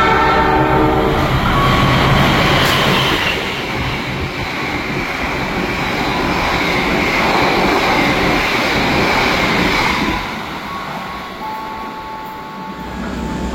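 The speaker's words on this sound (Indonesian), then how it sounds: "sesaat lagi kereta api Harina akan melintas langsung di stasiun Haur Gelis ini" An express train thunders through Haurgeulis station at full speed with a loud roar and rushing wind, a horn sounding early, then fading slightly as it recedes.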